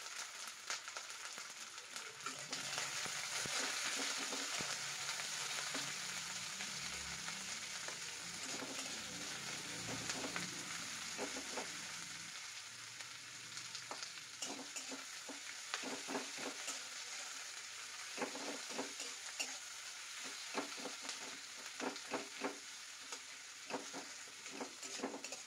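Chopped onions, cooked with cumin and mustard seeds, frying in a pan: a soft, low crackling sizzle with occasional stirring clicks, faint and steady, with no speech.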